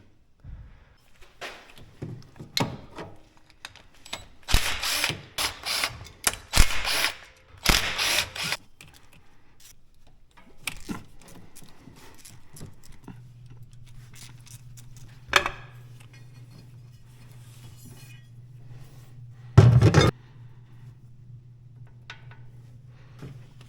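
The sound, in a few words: ratchet removing Bobcat engine valve cover bolts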